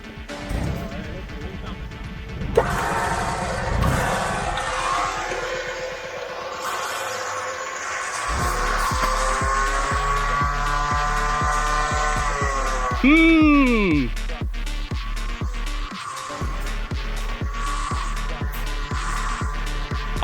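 A Suzuki Sierra comp truck revs hard at a river bash, its engine droning and rising in pitch as one tyre spins, with shouting voices and rattling knocks over it.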